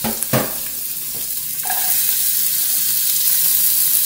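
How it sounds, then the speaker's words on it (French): Onion, carrot, celery and garlic sauté in a soup pot for a minestrone, giving a loud, steady sizzle with a few sharp clinks and stirring scrapes early on. No one speaks. "on fait revenir l'oignon, la carotte,"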